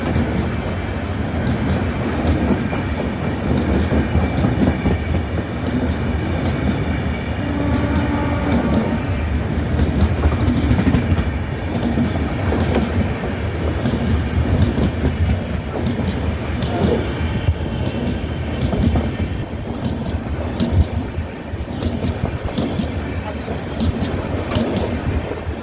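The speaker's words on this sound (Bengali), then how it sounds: "এই দেখো হাওড়া চেন্নাই সুপারফাস্ট মেল।" Howrah-Chennai superfast mail train at night, passing a station without stopping, a loud continuous rumble and rattle of carriages with clattering wheel beats throughout, close by and sustained.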